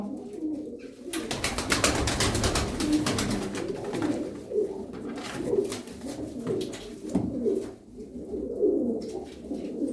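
Tumbler pigeons coo repeatedly in soft, low, rolling calls, with faint rustling and fluttering around them and no talking.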